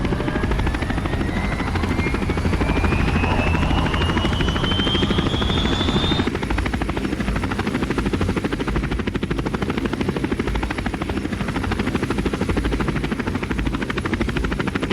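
A helicopter roars steadily and loudly throughout, its dense rotor and engine noise constant, with a rising whine in the first half that then fades out.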